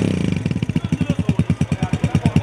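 A 2014 Honda 125 motorcycle engine runs steadily at close range, its exhaust putting out a loud, even stream of rapid thumping pulses.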